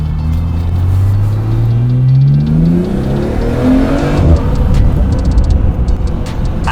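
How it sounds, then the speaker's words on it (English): A BMW F30 with a very loud aftermarket air intake accelerates. Its engine tone rises steadily under a turbo spool, then gives way to a rough, rushing roar as speed builds, with no talking. "That spool, gosh, I can hear the turbo"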